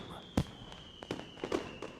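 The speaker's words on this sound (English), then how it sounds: "Fireworks." Fireworks in the visual novel Katawa Shoujo thump and crackle at night, one sharp boom followed by several softer, scattered distant bursts with a faint steady hum underneath.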